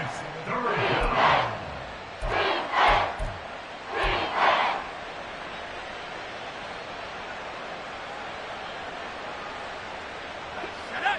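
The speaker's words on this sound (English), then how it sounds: "this crowd doing their best to make a lot of racket" A stadium crowd at a football game keeps up a steady roar, with several louder surges in the first few seconds before it settles into a constant wash of noise.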